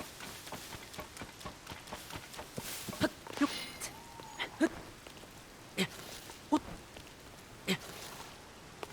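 Rain falling in The Legend of Zelda: Tears of the Kingdom, a soft steady patter running under the whole stretch, broken by a handful of sharper game clicks and taps standing out above it.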